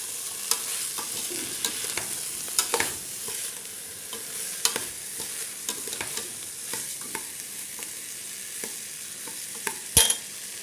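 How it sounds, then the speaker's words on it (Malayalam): Rice frying with masala and onion in a pan for prawn biryani, a steady sizzle broken by repeated scraping stirs, close and alone with no voices. "നന്നായി വറുക്കുക."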